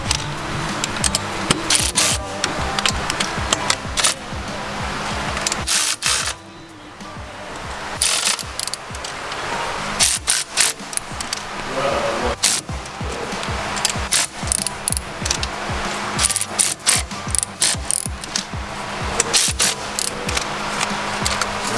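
Ratchet tightening manifold bolts on a 2017 Subaru WRX STI during a fuel system upgrade, heard up close as steady rapid clicking and grinding with brief pauses, with no talk.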